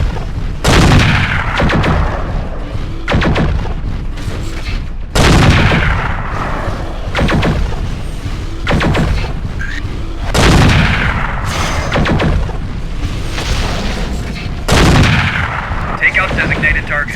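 Battlefield combat among giant mechs in the MechWarrior 4 video game, set in a town. Heavy booming cannon and gunfire shots land at irregular intervals, each one sharp and loud, with a rumbling background between bursts.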